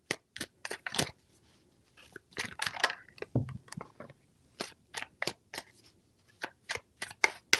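Tarot cards shuffled by hand in a run of crisp riffling, snapping bursts with short pauses between, close and fairly quiet, no talking.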